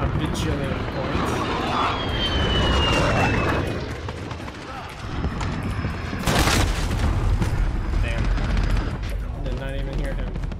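Repeated booming explosions and gunfire in a video game, loud and dense bursts under excited talk from a player.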